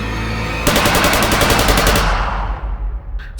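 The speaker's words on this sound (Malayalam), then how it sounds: "ഭീകരർ വെടിയുയർത്തു" A loud, rapid burst of automatic gunfire rattles for over a second, then fades into a rumbling echo.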